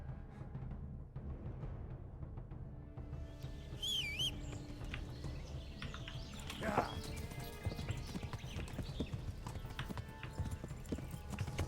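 Horse hooves clip-clopping at a steady gallop during a chase in the medieval game Kingdom Come: Deliverance, running continuously throughout with a brief whinny and bird calls above and speech mixed in.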